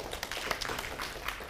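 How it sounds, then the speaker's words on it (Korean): An audience claps at a Korean lecture on entrepreneurs, a brief, fairly quiet patter of many hands with no voices. "자, 박수 한번 다시 한번 해주시죠."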